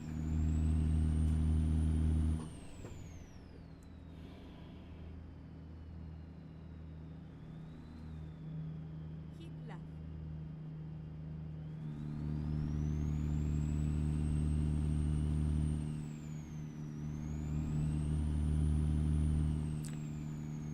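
A heavy truck's Caterpillar 3406 engine rumbles deeply in American Truck Simulator, its turbo whine rising and falling as it revs up and eases off, with a brief spoken prompt.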